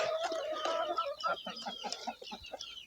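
A hen clucks up close in a short run of soft, repeated calls, clear and fairly quiet, with no talking.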